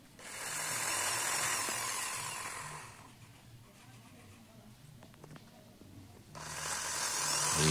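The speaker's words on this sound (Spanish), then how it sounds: "ahí estamos ya perforando la baquela para instalarle los" Small drill with a tiny bit perforating a bakelite circuit board for a homemade audio amplifier, high whining bursts at the start and end with a quieter gap of faint clicks and handling between them.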